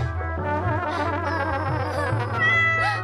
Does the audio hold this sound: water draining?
no